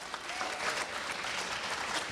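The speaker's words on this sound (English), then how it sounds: "Everybody give her a round of applause." A conference audience applauds at a keynote event, a dense, even wash of clapping from many hands that continues steadily throughout without a break, heard at moderate distance.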